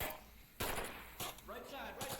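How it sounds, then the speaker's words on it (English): Gunfire in the VR shooter Onward during a competitive team match: sharp, loud shots arrive in separate bursts, each followed by a brief echoing tail, with game noise and a voice in between. "Hey, they're shooting at me."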